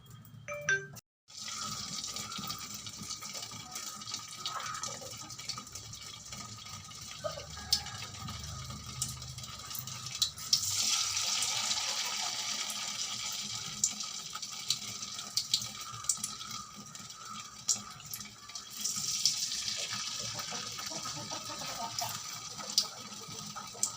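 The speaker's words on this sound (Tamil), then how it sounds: "முக்கி எடுத்து கொதித்த எண்ணெயில் போடணும்" Batter-dipped ripe banana fritters fry in hot oil, giving a steady, soft hiss and bubbling that continues throughout at moderate loudness, with a few brief clinks.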